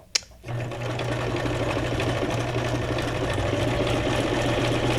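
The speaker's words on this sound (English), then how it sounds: "I'm still trying to figure out my tensions on my sewing machine." A sewing machine with its thread tension still being adjusted stitches steadily after a sharp click at the start, a loud continuous mechanical hum and whirr running close by without pause.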